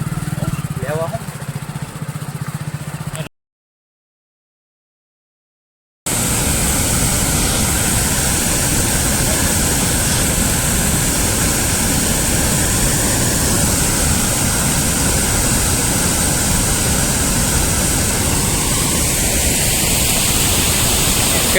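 A waterfall in Gujarat roars loud and close, a steady broadband rush that is cut by a few seconds of silence early on before resuming unchanged.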